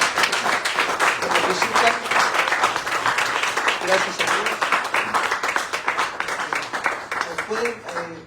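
Church congregation applauding their visiting pastors during a married couples' dinner, a dense continuous patter of clapping mixed with voices and someone speaking over it throughout.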